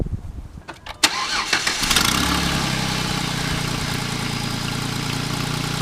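A Jeep Wrangler with new spark plugs and wires cranks with a few clicks and a brief whirring starter, catches, then settles into a steady, close idle.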